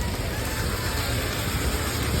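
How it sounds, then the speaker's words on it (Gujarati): A dense, steady hiss of rain falls on surfaces nearby, even and unbroken throughout, with faint voices mixed underneath. "અત્યારે તો વરસાદ ચાલુ છે"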